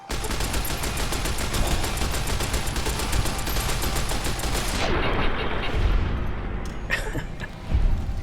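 An unusual weapon in Fallout: New Vegas fires a long, rapid stream of shots for several seconds. A couple of separate heavy reports follow after a brief lull.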